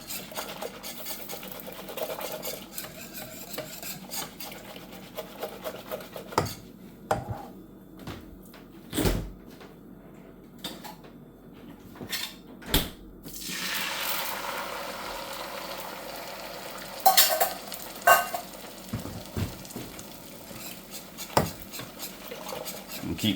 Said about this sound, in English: I'm gonna keep whisking it.